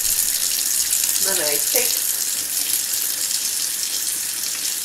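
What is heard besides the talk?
water from tap rinsing a makeup brush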